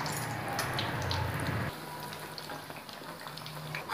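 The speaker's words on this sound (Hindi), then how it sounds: "आमे गोटे गोटे ब्रेड एमती छाणीदेबा, लाल लाल करी छाणीदेबा" Bread slices fry in hot oil, a dense crackling sizzle that drops abruptly partway through to a quieter bubbling hiss with scattered pops.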